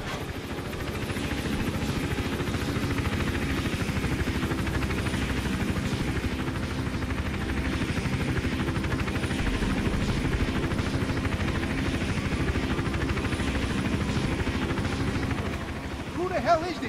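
Helicopter in the video game Hitman: Absolution, a steady rotor drone with engine rumble running loud and continuous throughout, with game voices talking over it.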